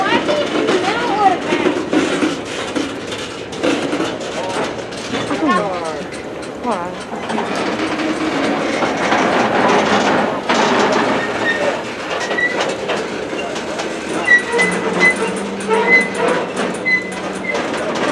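A CSX mixed freight train rolls past in Brunswick with continuous loud rumbling and clattering of cars throughout, close by, while people talk over it and a dog whimpers now and then.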